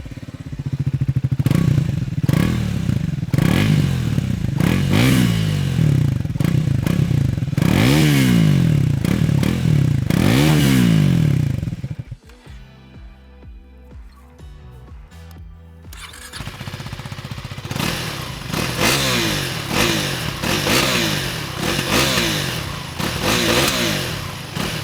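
A Triumph Speed 400 single-cylinder motorcycle revs repeatedly with sharp rising and falling exhaust bursts, loud and close, then idles quietly before several more revs follow.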